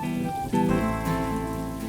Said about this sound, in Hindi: बारिश देख रही है